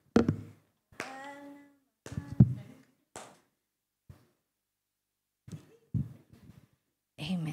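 Scattered hand claps from a church worship congregation, sparse and uneven, interleaved with short bursts of voices and singing rather than forming steady applause.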